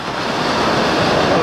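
Ocean surf washes onto a beach at Port Orford, Oregon, a steady broadband roar of breaking waves with wind noise, loud and continuous, slowly swelling over the short stretch.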